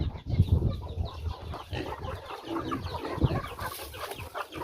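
A flock of farm chickens clucking and murmuring nearby while waiting to be fed, a busy continuous chorus of overlapping clucks with no talking.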